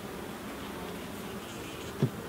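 Honey bees hum steadily inside a full hive during a UK beekeeping inspection in June, a continuous close drone with one brief sharper bump near the end.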